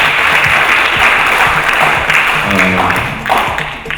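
An audience bursts into loud, dense applause, a continuous wash of many hands clapping close by for the whole few seconds, with a hint of voices underneath.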